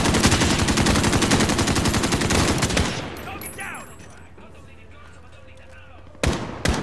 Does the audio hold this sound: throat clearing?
no